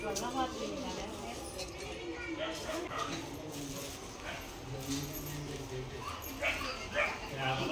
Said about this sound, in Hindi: पिल्ले मिल गए उन्हें तो पप्पी के साथ खेल रहे थे